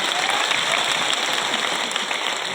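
Audience applause at a public government event with the Chief Minister in Dindori, a dense, steady wash of clapping filling the whole stretch at fairly loud level, with faint crowd murmur underneath.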